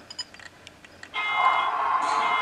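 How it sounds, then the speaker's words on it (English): Electronic alarm tone from the sound system of an Athearn F59PHi CDTX model locomotive, a few soft ticks and beeps giving way to a sustained, steady buzzing tone that holds for over a second. "the prime mover sounds like there's an alarm turning on there"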